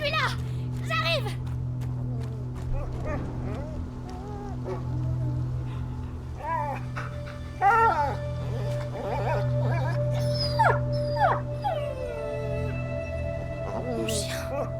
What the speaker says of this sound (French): Mon chien.